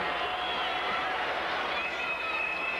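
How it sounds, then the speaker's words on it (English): Little Falls cheering section at a 1980 Minnesota state girls' basketball tournament, a steady roar of crowd cheering in a gym, heard under a commentator's voice. "the Little Falls cheering section is responding"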